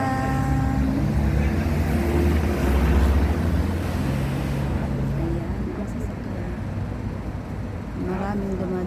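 Many vehicles pass on a nearby road, with loud engine rumble and humming tones that swell around the middle and then ease into a quieter background roar.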